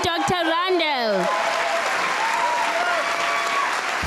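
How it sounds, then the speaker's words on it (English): An audience at a graduation ceremony stands and applauds, a broad wash of clapping that carries on beneath a speaker's voice and a brief sung or called-out tone before the clapping fills out. "Please stand as you clap hands for our Dr. Randall"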